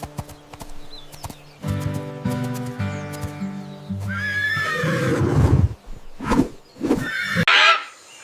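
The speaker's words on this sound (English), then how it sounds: "Horse." A horse whinnies loudly in several shrill bursts, near and clear, with a few hoof clip-clops and some other animal honks mixed in.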